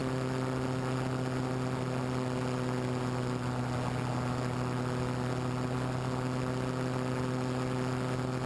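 An aircraft engine drones steadily at cruise RPM, a constant, even, tonal hum with strong low harmonics that stays unchanged throughout, heard alone from inside the aircraft.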